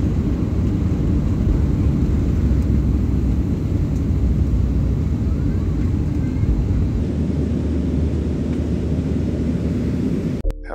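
An airliner in flight produces a steady, deep cabin roar, a continuous low rumble and hiss heard from inside the plane, with faint muffled voices under it.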